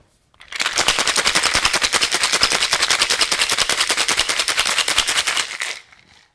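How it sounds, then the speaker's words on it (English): A cocktail shaker filled with ice is shaken hard for about five seconds, a fast, loud, regular rattle of ice against metal that starts abruptly and stops cleanly, while a Suffering Bastard cocktail with lime juice and Angostura bitters is mixed. "Now shake until well chilled."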